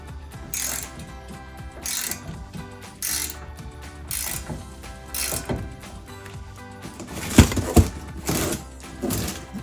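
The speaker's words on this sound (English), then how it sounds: "So from this point on, we can use the normal ratchet." Rapid clicking of a hand ratchet loosening the rear brake caliper bolts on a 2015–2023 Mustang EcoBoost, in repeated bursts of fast ticks with short pauses, close and fairly quiet, ending in a couple of sharper knocks.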